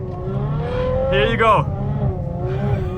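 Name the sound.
Ferrari F12 driving on snowy road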